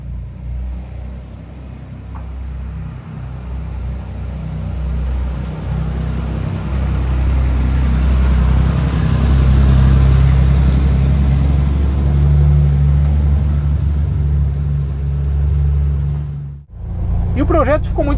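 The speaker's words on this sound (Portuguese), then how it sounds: "você tem um som dos 6 cilindros legal de ouvir, não é aquele som que incomoda" A Chevrolet Opala six-cylinder engine fitted with Weber 40 carburetors idles with a steady low rumble that holds loud and close for most of the stretch, then cuts off abruptly near the end.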